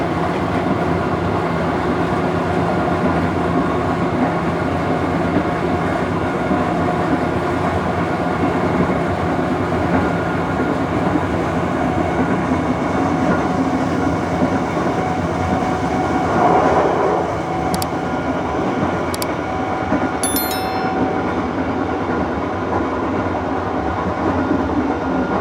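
The Kahuripan passenger train in Indonesia rolls along the rails near Kertosono, a continuous loud rumble with rhythmic clatter, plus a few brief high squeals toward the end.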